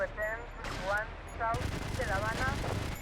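Gunfire in the GTA Vice City video game comes as several short shot bursts amid game noise, with someone talking over parts of it.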